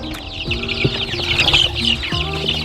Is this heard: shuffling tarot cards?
no